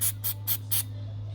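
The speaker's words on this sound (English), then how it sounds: "we're gonna use a brake cleaner" Four short, sharp bursts of brake cleaner aerosol spray hiss in quick succession, close by, over a faint steady hum.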